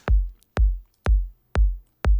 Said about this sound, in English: You need a punchy and a warm kick.